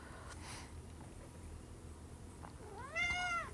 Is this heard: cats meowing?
yes